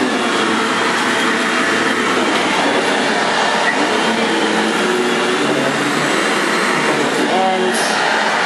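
A Bissell upright vacuum cleaner runs continuously at close range, a loud, steady broadband roar throughout, with no break or change in pitch.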